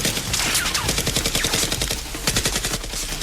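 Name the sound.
Nerf guns firing in a mock shootout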